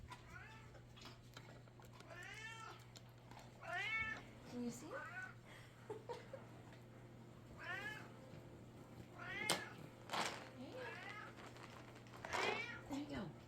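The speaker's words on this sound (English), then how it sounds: "can't forget the cat" A house cat meows over and over at close range, with drawn-out, rising and falling calls. Someone speaks briefly between them over a steady low hum.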